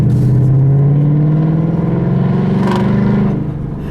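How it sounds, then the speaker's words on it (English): A 2015 Ford Mustang GT V8 with a Roush exhaust burbles loudly, its pitch rising and falling as it revs, then settles back down toward the end. "I still think the Roush exhaust is probably the best sounding exhaust you can get for this car."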